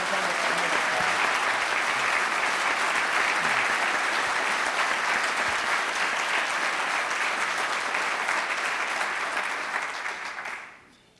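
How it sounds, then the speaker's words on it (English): An audience at a Medford mayoral debate applauds the candidates, a dense, sustained round of clapping from a large crowd that fades out at the end. "I would like to start with a round of applause to both of them for offering us a choice this November."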